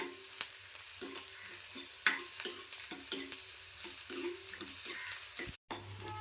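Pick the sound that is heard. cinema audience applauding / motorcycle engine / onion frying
onion frying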